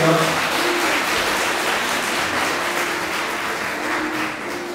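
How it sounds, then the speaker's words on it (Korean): Wedding guests at a Korean wedding hall giving a big round of applause, dense and steady clapping sustained throughout at a loud, even level. "큰 박수를 부탁드립니다"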